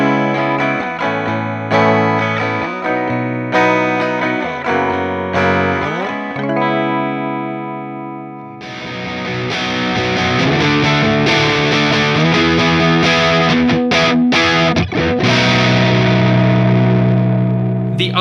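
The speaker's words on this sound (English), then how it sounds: "which means we're now on the bridge pickup, and so here it is clean, and then with a little bit of drive" A Kauffmann 56T electric guitar in Sonic Blue Sparkle plays on its bridge pickup, first a clean picked phrase, then a louder, gritty strummed passage with drive, steady and up close with no talk.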